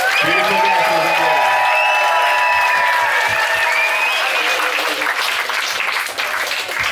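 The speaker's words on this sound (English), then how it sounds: "more big clap to them" A festival concert crowd at Samsara Festival 2018 gives loud, sustained applause for the performers. Dense clapping continues throughout, with a voice speaking over it at first.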